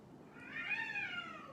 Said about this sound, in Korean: 길고양이들이 싸우고 있어요.